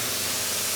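Spray foam insulation hisses steadily as it is sprayed inside a house, a loud, unbroken rush with no voices.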